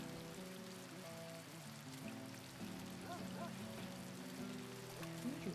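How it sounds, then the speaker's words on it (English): Steady rain pours down in the video game RimWorld, a continuous soft patter of drops spread evenly through the scene, with game music tones layered underneath. "this rain is absolutely ruining my hair"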